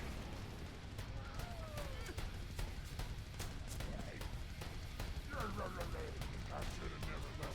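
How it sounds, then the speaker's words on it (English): Rocket launcher and staple gun firing in the game Super Buff HD: a dense, continuous stream of sharp gunfire-like bursts and booms, loud and busy throughout, with game effects layered over constant noise. "get a whole bunch of kills with the rocket launcher and with the staple gun"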